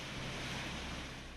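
Rushing floodwater in a flooded district: a steady, dense broadband roar of churning water with a low rumble underneath, continuous and fairly loud, with no voices.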